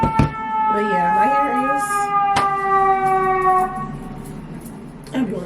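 Ambulance siren passing outside in Chicago, a wailing tone sweeping up and down at moderate distance, fading out after a few seconds, with a couple of sharp knocks nearby.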